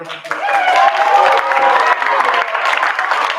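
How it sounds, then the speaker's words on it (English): A crowd at a noontime show with guest artist Big Nazo applauds and cheers, a continuous wash of clapping mixed with voices and whoops that stays loud and steady throughout. "Let's give it a round of applause"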